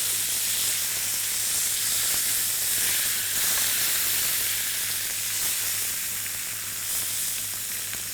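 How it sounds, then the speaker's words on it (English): Pieces of meat sear in a fry pan, giving a steady, dense sizzle and hiss that holds close and loud throughout with no talking, only slight swells as the pieces are turned. "just keep turning the pieces of meat so they're seared on all sides"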